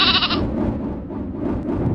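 A goat bleats once in a drawn-out wavering cry as a storybook sound effect for a field beside a railway line, loud and close with no voices.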